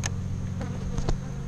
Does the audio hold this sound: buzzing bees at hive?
yes